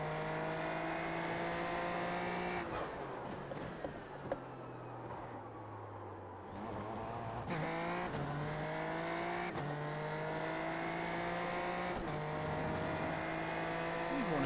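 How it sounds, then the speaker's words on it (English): Super Formula Lights open-wheel race car in the iRacing sim, its turbocharged engine droning steadily with rising and falling revs through gear changes, loud and continuous with no talk over it. "Oh, that turbo sounds so good."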